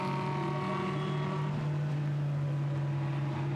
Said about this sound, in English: the last few cars just about to power clear